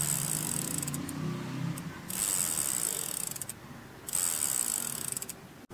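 Rear wheel of a Montra bicycle spinning freely so the hub and sprockets give a fast, continuous ratcheting buzz, close and fairly quiet, changing speed in bursts with no talk.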